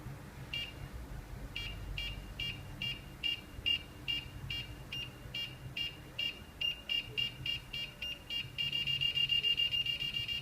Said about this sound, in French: Avec le petit buzzer qui s'accélère pour faire stresser.